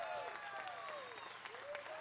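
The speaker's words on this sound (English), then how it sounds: "Audience, please make sure and give them a nice round of applause." Applause from an audience at a junior livestock market hog show in Box Elder County fills the space as a dense, steady patter, with a voice and a thin whistling tone running through it.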